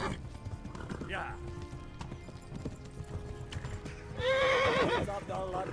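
A horse in Kingdom Come: Deliverance clops its hooves at a steady gait and then gives a loud, quavering neigh near the end, with someone talking over it.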